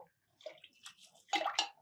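Rice and moong dal being washed in water for chakari pongali, with soft splashing and sloshing in short, quiet bursts and a slightly louder swish toward the end.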